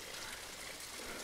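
Mineral radon spring water trickles in a small stream flowing into a lake, a steady close, soft, continuous burble with no voices.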